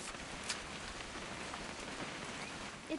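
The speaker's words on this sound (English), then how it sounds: "It's gonna rain the whole weekend, isn't it?" Steady rain falls in the video game What Remains of Edith Finch, a dense, even hiss of drops pattering on surfaces throughout, with a couple of slightly louder drips near the start and end.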